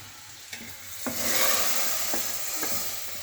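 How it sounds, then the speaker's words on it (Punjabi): Masala stirred into khichdi in a pot on a gas stove: a hot sizzle swells up, and a spoon knocks against the pot about four times, close and clear, with no one talking. "ਅਸੀਂ ਪਾਤਾ ਮਸਾਲਾ ਆਪਣਾ ਖਿਚੜੀ 'ਚ"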